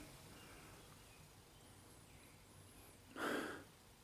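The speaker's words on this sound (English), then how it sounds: "Give it a sniff." One short, sharp sniff close to the microphone, someone smelling the engine oil of a Troy-Bilt TB30R mini riding mower that has gasoline in its oil. The rest of the clip is quiet room hiss.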